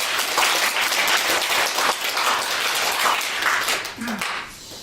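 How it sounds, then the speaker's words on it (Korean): Applause from an audience at a Korean proclamation gathering, a full, close clapping wash that holds steady before thinning and fading near the end, where a faint voice briefly surfaces. "여러분 박수 한번 쳐주세요."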